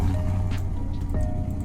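A 2009 Piranha Bromwich car in the Roblox game Greenville starts up, settling into a steady low engine drone that fills the short clip at moderate, even loudness, with a slight shift in tone partway through.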